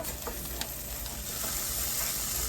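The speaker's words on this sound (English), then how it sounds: "And I'm just going to keep stirring it" Bacon and other food sizzling and frying in a pan while being stirred, a steady close hiss with small crackles and a few stirring scrapes, no talking.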